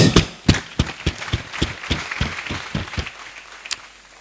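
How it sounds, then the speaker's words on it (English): Applause at a university convocation ceremony: a steady run of sharp claps that thins toward the end, with one last clap near the close and no talking. "Let's have a round of applause for that"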